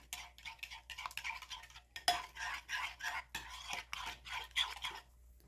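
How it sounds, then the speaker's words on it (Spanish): A utensil stirs a homemade salad dressing in a bowl, making a steady run of close, soft scraping and clinking strokes with brief pauses, no voices over it. "Ahora sí vamos a mezclar muy bien para que se integren todos los ingredientes"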